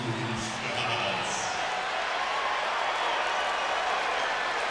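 A basketball arena crowd at a Lakers–Mavericks game cheers and applauds on its feet in a dense, steady roar that holds at full volume, with a commentator talking over it at the start.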